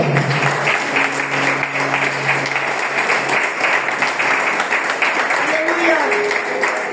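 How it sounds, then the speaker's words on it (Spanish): A church congregation claps together, a dense wash of applause mixed with voices and faint sustained tones from music underneath. "Aplausos y aplaudir al Señor."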